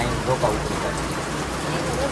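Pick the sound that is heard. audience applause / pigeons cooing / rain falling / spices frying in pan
rain falling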